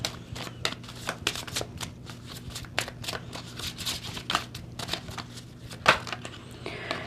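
Moonology oracle cards are shuffled and drawn in a quiet room, a close, soft run of crisp riffling and flicking taps with a sharper snap near the end.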